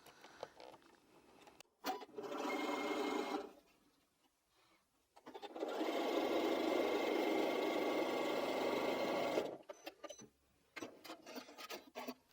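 A domestic sewing machine with a 1/4 inch foot stitches a log cabin quilt block, making close, fast whirring runs in two bursts, a short one and a longer one of about four seconds, with handling noises between and after.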